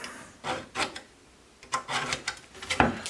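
A hand scraper rasps along the edge of a metal organ pipe for a new Gamba 8' rank, in several short, close scraping strokes with brief pauses between them.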